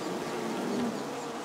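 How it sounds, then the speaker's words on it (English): Honey bees buzz around hive frames during a nucleus colony inspection, a dense steady droning hum from many insects close by, with no pauses. "This one had one cluster of bees on it, starting to make wax, drawing out the wax."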